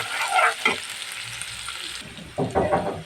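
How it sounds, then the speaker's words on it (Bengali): Spice paste with onions and dried chillies frying in a pan for a liver curry, a close sizzle broken by bursts of stirring and scraping, louder at the start and again near the end. "দেখেন পেস্টটি সুন্দর করে বাজা হচ্ছে"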